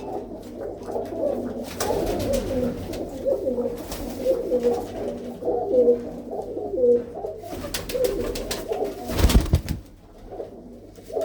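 Pigeons of a blue-footed breed coo repeatedly, soft rhythmic calls overlapping at close range, with a few brief clatters and bumps breaking through near the end.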